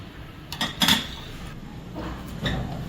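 Dishes and cutlery clink in a home kitchen as fried apple pie is served, with a couple of short clatters near the start and a softer one toward the end.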